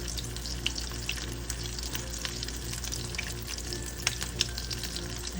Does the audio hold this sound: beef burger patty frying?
yes